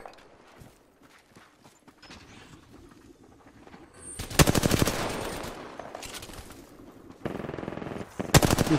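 Automatic gunfire in the video game Apex Legends, a quiet stretch of faint footsteps and movement giving way to two loud, rapid bursts of shots.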